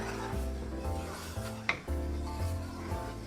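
A spoon rubbing steadily around a pot while stirring a roux for keto gumbo over low to medium-low heat, a close scraping rhythm with a faint low hum underneath.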